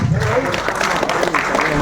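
An audience at a mushaira applauds in a short loud burst of clapping, mixed with a speaker's voice over it.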